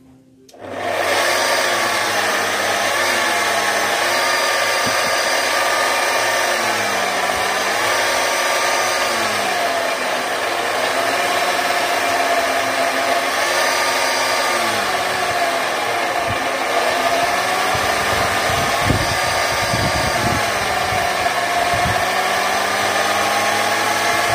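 A spinning polishing wheel loaded with green compound buffs a knife blade, giving a steady, loud whirring hum throughout with slight shifts in pitch as the blade is pressed against it.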